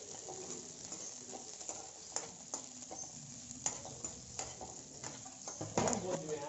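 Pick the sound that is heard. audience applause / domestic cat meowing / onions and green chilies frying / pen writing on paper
onions and green chilies frying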